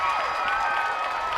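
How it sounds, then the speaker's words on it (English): Softball crowd cheering at a college game, UCLA versus Maryland, after an aggressive slide into base; a steady, dense wash of cheers and applause sustained throughout. "The crowd is very excited by that as Sam Bean"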